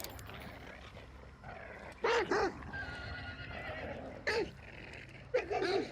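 A horse whinnies several times in the game Hunt: Showdown 1896, short shrill neighs standing out over low background game ambience, fairly close.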